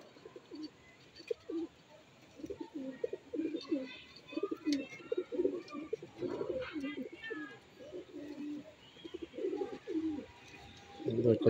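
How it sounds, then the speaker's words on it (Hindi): A golden pigeon coos in repeated low bursts close by, joined by other birds chirping and tweeting in the background. "ये लो जी क्या आवाज है कबूतर की"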